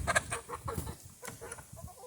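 Several chickens cluck and squawk close by in a backyard coop in short, busy bursts, with no one talking.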